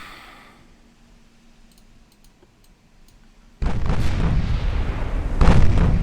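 Naval gunfire in a battleship combat video game: after a quiet stretch with faint clicks, heavy artillery booms erupt into a loud sustained rumble with a second surge near the end, no talk.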